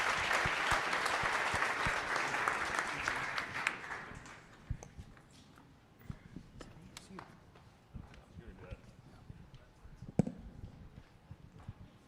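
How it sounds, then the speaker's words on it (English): An audience at a startup pitch night finale in Calgary applauds with dense, loud clapping for about four seconds, then it thins out to a few scattered claps and quiet room noise. "Another round of applause for SimpleHedge."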